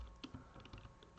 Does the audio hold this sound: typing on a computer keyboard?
yes